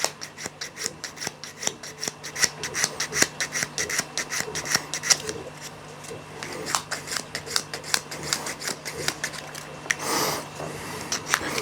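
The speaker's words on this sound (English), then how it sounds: "legs also need a bit of a sand down" The legs of a plastic model stegosaurus are sanded with quick, repeated rasping strokes in a steady rhythm, close and crisp, with a longer rubbing pass near the end and someone talking at times.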